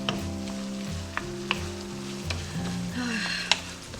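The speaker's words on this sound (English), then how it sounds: "I'm going to finish browning up the ground beef and cooking those green onions down." Ground beef and green onions fry in a pan, a steady close sizzle with a few sharp clicks and scrapes of a utensil over an ongoing background hum.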